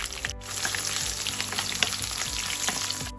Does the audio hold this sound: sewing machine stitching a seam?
no